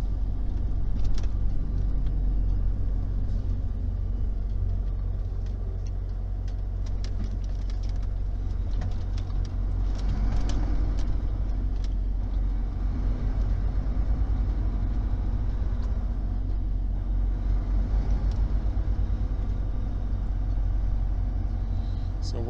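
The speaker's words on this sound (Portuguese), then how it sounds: "Esse horário tem bastante carro." Car traffic on the international bridge at the Uruguay–Brazil border crossing makes a continuous low rumble of engines and tyres, with vehicles passing close by and occasional birds faintly audible.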